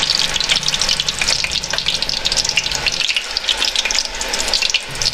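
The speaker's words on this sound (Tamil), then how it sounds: "இப்போ நம்ம இதை எடுத்து எண்ணெயில் போட்டு பொரிச்சிக்கலாம்." Breaded chicken cutlets frying in hot oil in a kitchen, with a continuous crackling sizzle and bubbling that holds steady throughout, heard close up with no voices.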